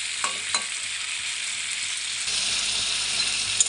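Papaya and potato pieces fry in a pan for a rohu fish curry. A steady, moderate sizzle carries on throughout, with a couple of light utensil clinks early and no talk.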